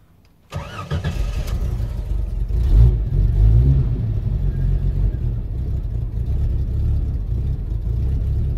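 A car engine cranks and fires, then runs up into a rough idle with a brief rev, loud and close, all during a wideband oxygen sensor install on the car.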